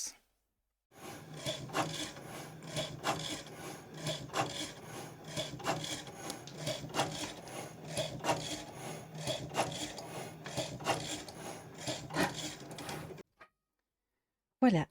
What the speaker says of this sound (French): Donc là, la Cricut est en train de découper et je croise les doigts.